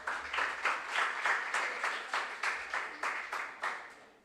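An audience at a junior science and maths quiz regional qualifier claps together in a steady, even rhythm of sharp, closely spaced beats, fairly loud and sustained throughout with no talking over it.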